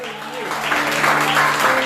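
A church congregation claps for the Lord in steady, building applause that grows louder toward the end, with a voice and sustained tones carrying through underneath.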